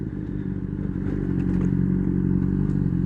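Honda CBR 600 RR sport bike ridden through town traffic: a low, steady engine drone with slight clattering and a small rise in revs, heard continuously with no voices.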